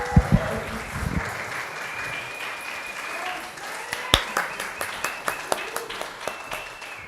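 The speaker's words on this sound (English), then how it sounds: "Friends, clap for Vincent one more time, please." Scattered hands clap for a poet at a poetry reading, a string of sharp separate claps that picks up partway through, following a stretch of voices and background sound.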